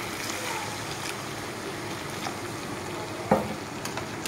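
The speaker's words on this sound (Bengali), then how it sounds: "এখন আমি জল দিয়ে দিব।" Water poured into prawns frying in masala for a Bengali yogurt prawn curry (doi chingri), with a steady close sizzle and a brief splash toward the end.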